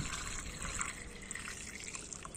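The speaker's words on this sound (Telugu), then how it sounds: "అవే వాటర్ అయితే పోస్తున్నాను" Filtered water pours from a container in a soft, continuous trickle and splash, quiet and close, with no talking.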